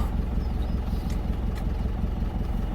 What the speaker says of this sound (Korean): 일부러 시동을 안 끈 겁니다